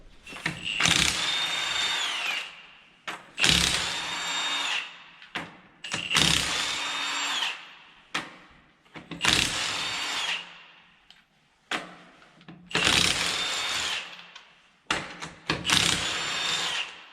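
Bursts of an impact wrench or power tool spinning off 22 mm metric lug bolts on a Ford Expedition during rear strut work, about seven loud whirring runs of one to two seconds each, separated by short pauses.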